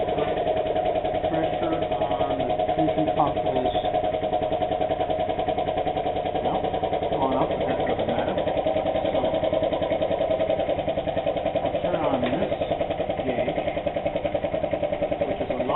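Vacuum diffusion pump running during telescope mirror aluminizing, a steady mechanical hum with a constant tone, carrying on continuously in a workshop while people talk faintly.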